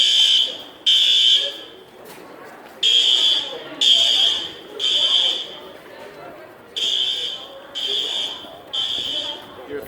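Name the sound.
school fire alarm sounding during fire drill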